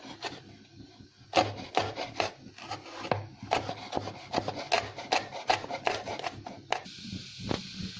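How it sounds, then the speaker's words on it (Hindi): Knife chopping a red-ripened green chili on a wooden board, a steady run of close, crisp taps, a few louder, repeated over several seconds with no speech. "अब मैं ये ग्रीन चिली है जो रेड हो चुकी है, उसको भी मैं कट कर रही हूँ।"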